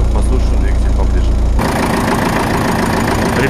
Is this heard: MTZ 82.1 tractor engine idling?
yes